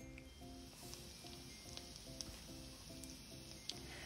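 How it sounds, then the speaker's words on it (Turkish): Peeled almonds and pine nuts roasting in butter in a pan, a quiet steady sizzle with faint crackles and occasional small pops as they are stirred, with a low, regular background hum underneath. "yarım su bardağı kabukları soyulmuş badem ve 1 yemek kaşığı çam fıstığı ekleyip ikisini yaklaşık 5 dakika karıştırarak kavuruyorum"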